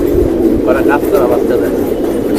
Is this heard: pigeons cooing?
yes